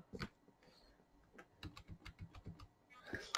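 Keys on a computer keyboard clack in quick irregular bursts, close and crisp, a run of individual taps with a louder burst at the end and no talking.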